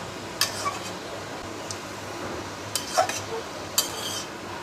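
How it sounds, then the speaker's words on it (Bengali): Spices being stirred into ash gourd in a pan: scattered metal spoon scrapes and sharp clinks against the pan over a low steady background hum, with a few louder knocks near the end. "সব মশলা ভালো করে চালকুমড়ার সাথে মিশিয়ে নিচ্ছে"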